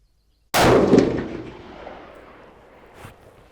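Single rifle shot at an outdoor range with an MPA rifle, a sudden loud blast followed by a long decaying rumble and echo lasting a few seconds, no talk.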